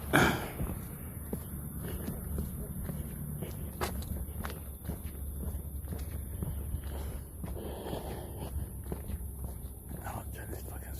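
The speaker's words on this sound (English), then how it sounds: "I'll walk up to it now." Footsteps walking outdoors near a roadside police breathalyzer stop, a steady run of soft steps over constant traffic rumble, with voices talking nearby.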